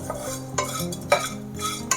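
Chana dal and peanuts frying in a pan on low heat while being stirred, with brief scraping strokes and a couple of sharp metallic clinks over a soft sizzle, close and without voices.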